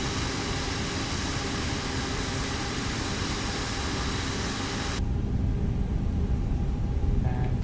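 American Airlines A321neo jet engines roaring during takeoff in Microsoft Flight Simulator, a loud, continuous broadband rumble that shifts in tone partway through and grows slightly heavier toward the end.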